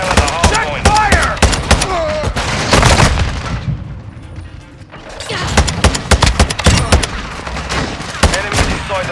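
Rapid gunfire and volleys of shots in Call of Duty: Modern Warfare II, loud and dense with dozens of sharp cracks, a brief lull midway, then sustained bursts again, with shouted voices mixed in.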